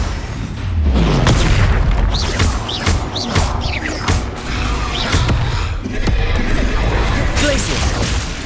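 Spell blasts and booming explosions crash repeatedly in a Hogwarts Legacy combat scene, loud and dense with sharp bangs over a steady rumble, while a player calls out spell names.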